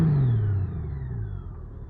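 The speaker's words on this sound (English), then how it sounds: "I like the exhaust note on this bike." Exhaust of a new Honda Goldwing motorcycle with a flat-six engine, a smooth low rumble fading as the bike pulls away and recedes into the distance.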